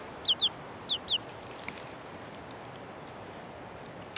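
Chickens clucking in four short, high, chirpy bursts grouped in two quick pairs, then quiet over a steady outdoor hiss with no talking.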